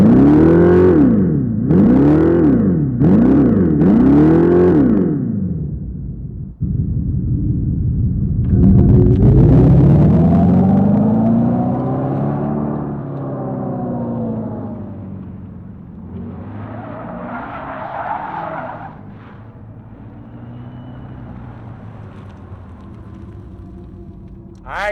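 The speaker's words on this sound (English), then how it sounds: "let's turn on this electrified muscle car and hear what it sounds like." A 2024 Dodge Charger Daytona R/T electric muscle car starting up and driving, giving a loud synthetic engine-like roar that rises and falls in repeated revving swells, then a sustained drone that slowly fades, with no talk.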